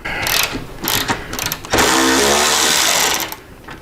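Removal of a 10 mm bolt from a motorcycle mid-frame air deflector on a Harley-Davidson Low Rider, heard as a close burst of ratcheting clicks followed by a steady, sustained mechanical whir from the tool.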